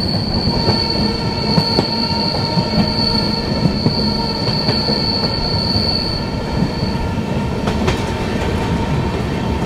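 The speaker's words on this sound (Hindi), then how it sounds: "तो यहाँ डीजल लोकोमोटिव के साथ ही चलती हैं ट्रेन्स।" A diesel-hauled Rajdhani Express rolls along the rails on a single-line section, its wheels grinding loudly and steadily, with a high squealing tone and faint clicks over a constant, close rumble.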